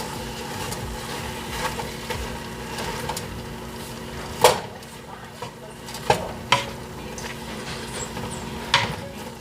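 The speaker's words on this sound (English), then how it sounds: "Now we add in our ground beef and we chop that up in the pot" Ground beef being chopped and stirred in a pot for empanada filling: soft scraping and sizzling underneath, with several sharp utensil knocks against the pot spaced irregularly, close and moderately loud.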